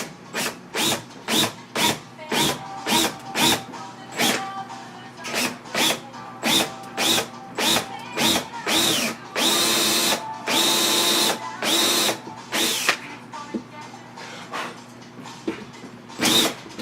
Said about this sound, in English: I'm going to go ahead and drill out one of them and replace it